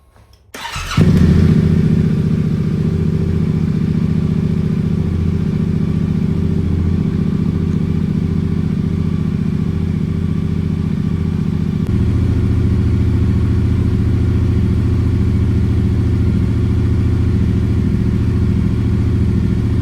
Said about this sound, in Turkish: Şimdi konta açıp bir marş verelim.